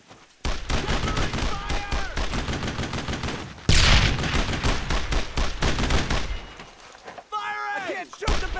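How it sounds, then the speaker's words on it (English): Dense bursts of rifle shots and rapid machine gun fire fill a World War II battle in Brothers in Arms, loud and nearly continuous, with a heavy blast midway and soldiers shouting over the shooting. "Get that MG now! Fire on those crowds! Covering fire!"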